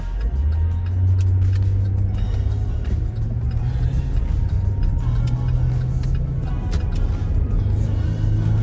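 A car driving along, a steady close engine rumble with road noise and gentle rises in revving, continuous throughout with no talking.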